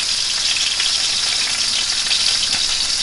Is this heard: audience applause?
no